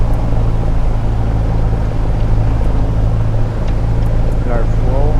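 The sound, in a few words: Cessna 172 engine run-up, video game Microsoft Flight Simulator 2020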